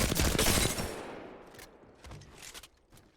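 An R-99 submachine gun in Apex Legends fires a fast, dense burst that fades over about a second, followed by scattered softer shots and impacts.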